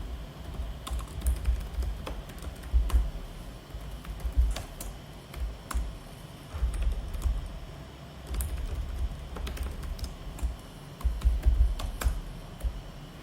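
A computer keyboard clatters with bursts of quick key presses, including Tab key strokes, the clicks uneven and close during accounting data entry, with pauses between runs and no voices.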